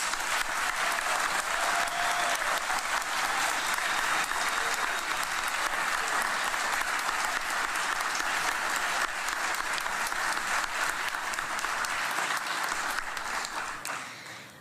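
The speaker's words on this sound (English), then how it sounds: "please give our Liz Blanc Exceptional SARC of the Year Award winners a round of applause" A long, steady round of audience applause at a sexual assault prevention and response awards ceremony, full and even before tapering off at the end.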